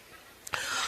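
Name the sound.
cough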